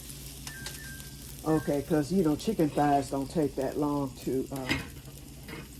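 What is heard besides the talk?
food with chicken thighs and sausage boiling over on stove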